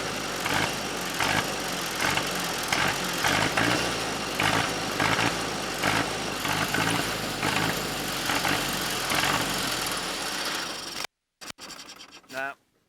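An abandoned 1963 Ford backhoe engine runs roughly and steadily for about eleven seconds, loud and close with a pulsing mechanical rumble, then cuts off abruptly before some brief clattering.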